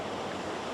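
A river flowing beside a campsite with picnic benches and a fire pit, a steady broadband rush of moving water heard close and alone over a brief moment.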